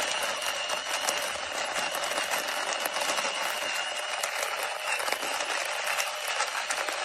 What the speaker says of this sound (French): Et là, c'est en train de mouliner.